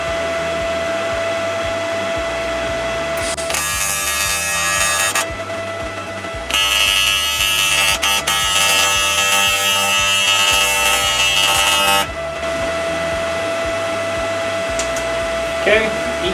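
An AC/DC TIG welder runs on cast aluminum, giving a loud close buzzing arc crackle in two long bursts separated by a short pause, with quieter machine hum before and after.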